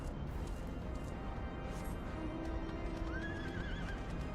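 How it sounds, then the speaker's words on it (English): A horse in Final Fantasy XIV neighs with a rising, wavering whinny over a steady clatter of hooves, fairly loud and with nobody talking. "If I ride on my stealthy lightning horse, maybe they won't even hear a thing."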